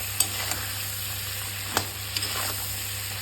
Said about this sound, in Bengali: তো মাছগুলো সুন্দর করে একটু প্রথমে ভেজে নেব।